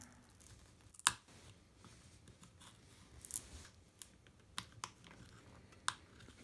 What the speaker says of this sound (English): you want to take your knife and you want to slice the adhesive off on the inside here